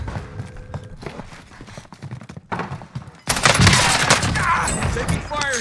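Gunfire in Call of Duty Warzone on Rebirth Island, a sudden loud sustained burst of shots that starts partway through after quieter rattling, with a voice talking before it.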